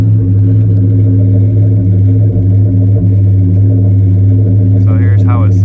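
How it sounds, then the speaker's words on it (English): Mitsubishi 3000GT engine idling steadily after a start-up, a loud, deep exhaust rumble with a constant droning tone, heard up close with brief rattles near the end. "I'm gonna go ahead and start it up for you guys because this car does have an exhaust"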